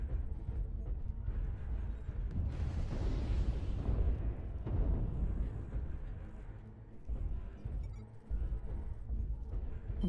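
Artillery strike explosions in the mech combat game MechWarrior Online, with a Jenner JR7-O mech: a dense, loud run of rumbling booms and bursts that rise sharply partway through and keep churning at close range.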